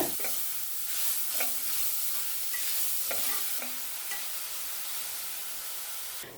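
A utensil scrapes and stirs grated yam sautéing with turmeric in a hot pan, soft sizzling underneath with periodic scraping strokes, no voices.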